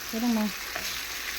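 Chicken pieces, wings, thighs and legs, frying in a pan, a soft sizzle with a brief stirring scrape early on, then a quieter steady crackle.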